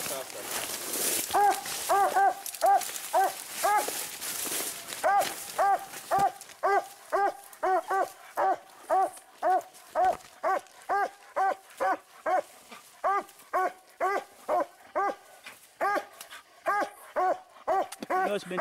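Hunting dogs bark steadily at a raccoon treed on the Rock River, a long run of evenly spaced, loud barks close by, with a voice heard at the start.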